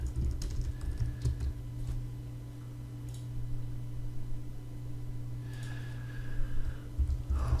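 Computer keyboard typing while code comments are written for Selenium test automation, a quiet, steady run of small clicks over a low electrical hum, louder near the end.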